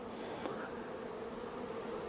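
A dense, steady buzz of a honeybee swarm entering an empty hive at an apiary fills the air without a break, close and constant, with no voices.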